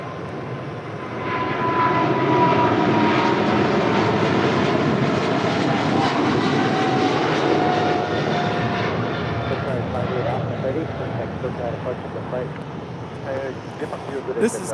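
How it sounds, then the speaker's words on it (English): Qatar Cargo Boeing 777 freighter departing LAX, a loud jet engine roar that builds quickly, holds powerfully, then slowly fades away, with people talking over it. "This is Qatar Cargo, Flight 58 Alpha, departing to Liège on a 777 freighter."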